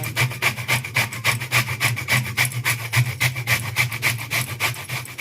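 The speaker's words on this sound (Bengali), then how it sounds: "এবার ঘষাটা ঘষে নিচ্ছি, এক এক করে সবগুলো কিন্তু ঘষে নেবো" Vot kochu taro rubbed against a hand grater, a rhythmic, rapid back-and-forth rasping of steady strokes, close and loud with no voices.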